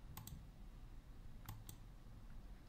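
A few quick clusters of keystrokes on a computer keyboard while numbers are entered into a web form, light close clicks spaced by quiet pauses over faint room hiss.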